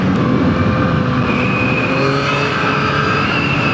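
Engine of a 2024 Yamaha MT-09 V4 motorcycle pulling hard under acceleration, a loud, steady, close roar with a rising whine held for nearly four seconds and no voices.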